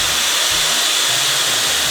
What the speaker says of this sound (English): And then I'm gonna take my blow dryer.